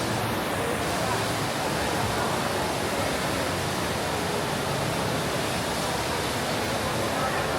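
Indoor waterfall inside Singapore's airport terminal, a steady loud roar of falling water filling the space continuously from start to finish.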